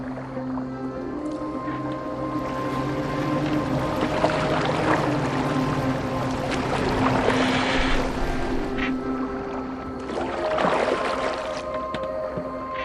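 Boat gliding over water in the Viking game Assassin's Creed Valhalla, a steady washing of water against the hull with tonal music underneath, continuous and moderately loud with brief swells.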